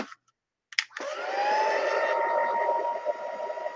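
A heat tool drying a mixed media index card: after a couple of brief clicks, a loud, steady blowing whir starts up and holds at close range.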